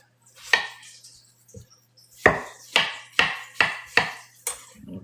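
A knife cuts through food on a cutting board in a kitchen, with one firm thunk, a faint tap, then a quick run of five crisp chops in steady rhythm, close and clear.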